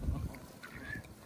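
Geese and ducks in a flock call out in a community setting. A few short honks and quacks come faintly over low background noise.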